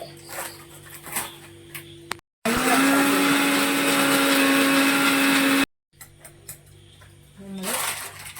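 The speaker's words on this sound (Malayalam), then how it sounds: "ആവശ്യത്തിന് റസ്ക് എടുത്ത് പൊടിച്ചെടുക്കാം." A kitchen mixer grinder loudly grinds rusk into crumbs in one steady, whining burst of about three seconds. It starts and stops abruptly, with quieter kitchen noise and a dog's whimpers before and after.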